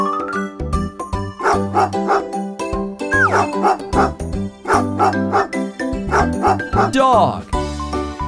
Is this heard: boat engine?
no